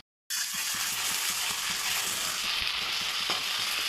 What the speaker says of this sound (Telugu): ఇప్పుడు మనము దంచుకున్న అల్లం వెల్లుల్లి పేస్ట్ అయితే వేసుకోవాలి